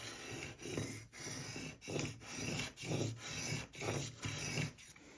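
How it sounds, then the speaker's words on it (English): A knife edge is honed on 400 grit sandpaper using a Mohoo sharpening holder. Close, steady back-and-forth rasping strokes repeat about ten times in an even rhythm, with no talking. "The sandpaper that I'm using is a 400 grit sandpaper, so it will do the same thing to be able to clean up this edge."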